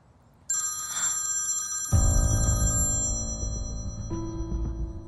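Telephone ringing in a dramatic scene, a bright bell-like electronic ring that holds for a couple of seconds, then gives way to lower sustained music.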